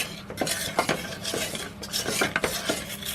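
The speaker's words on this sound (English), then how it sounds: "So I'm just stirring this through" Peanut butter satay mixture is stirred in a pan on the hob, rhythmic scraping strokes of a utensil against the metal with a soft sizzle underneath, close and moderately loud, no voices.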